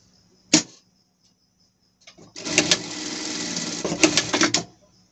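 A sewing machine stitches the shoulder seam of a pet dress, starting after a sharp click with a steady mechanical run of about two seconds and then stopping.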